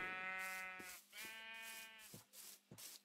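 Sheep in the game Minecraft bleating in several repeated calls, the first long and wavering and the next shorter, with soft clicks between them and no talking.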